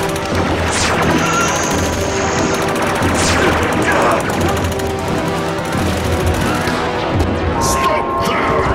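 In a Doctor Who battle between soldiers and Cybermen, rapid bursts of gunfire crack over a dense, loud action soundtrack, with voices shouting over it.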